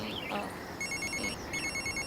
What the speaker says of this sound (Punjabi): ਲੈ ਜੈਲੀ ਦਾ ਫੋਨ ਹੈ,